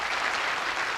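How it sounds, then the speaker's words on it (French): Studio audience applauding a contestant on a 1989 French Jeopardy game show, a steady dense wash of clapping throughout the brief moment. "Vous allez l'applaudir, Serge."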